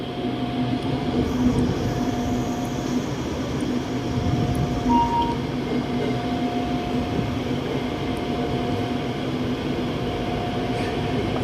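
A passenger train, a special express with a power car, rumbles steadily past at Bang Son with a constant low roar and a faint tonal hum, sustained throughout with no talking.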